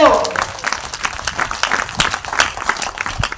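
A church congregation breaks into loud, sustained clapping, dense overlapping claps filling the space for a few seconds.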